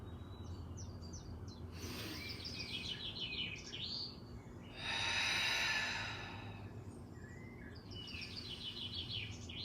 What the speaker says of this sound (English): The cat sees the birds on the TV and he wants to catch the bird.